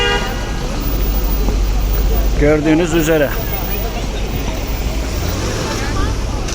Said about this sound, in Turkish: Trafik kilitleniyor ister istemez.